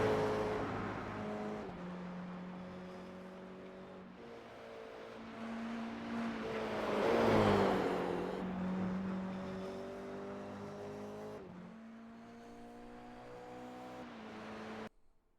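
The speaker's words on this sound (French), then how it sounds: "Il nous reste en piste quelques véhicules qui finissent leur dernier tour de" Toyota GR86 race cars finish a qualifying lap on a circuit, engines droning steadily at moderate distance with one car swelling louder as it passes near the middle before the sound fades to a quieter hum.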